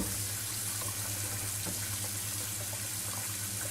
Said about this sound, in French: Donc vous prenez du savon de Marseille, voilà, et vous les frottez sérieusement